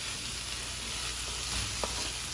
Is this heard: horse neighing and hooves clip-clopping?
no